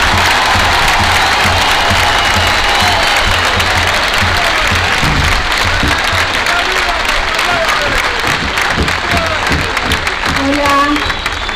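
An audience at a political event in Mar del Plata applauds to welcome a national deputy, with steady, loud clapping and crowd noise filling the space, mixed with scattered voices and cheers.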